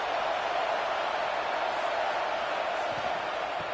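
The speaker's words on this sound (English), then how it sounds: "the crowd really making some noise now, trying to help out this defense to get this stop near the goal line" A stadium crowd roaring in a College Football 26 game near the goal line, a dense, continuous wash of cheering noise at steady volume with no clear breaks.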